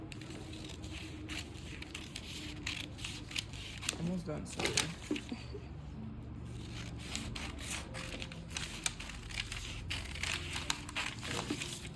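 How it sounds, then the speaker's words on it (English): Paper scissors snip through pattern paper in a series of short crisp cuts with rustling, while a person speaks briefly over the sound. "take your paper scissors and then cut out."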